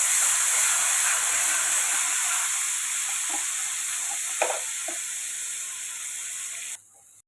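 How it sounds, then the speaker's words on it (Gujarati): Onion-tomato gravy hits a hot pan with asafoetida and whole spices, setting off a loud, steady sizzle that slowly fades, with a few soft clinks of a utensil before it stops abruptly. "અહીંયા આપણે ડુંગળી ટમેટાની જે ગ્રેવી બનાવી હતી એને આપણે નાખશું"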